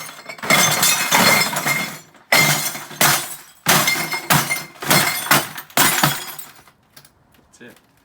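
Glass bottles smashed with a sledgehammer inside a plastic bucket under a cover, several loud crunching, shattering bursts in a row with short pauses, then quiet with faint clinks.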